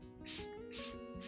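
A hand spray bottle mists lemon solution onto an anthurium plant, giving three quick, soft pumped hisses in close succession, faint and close by, with no talking.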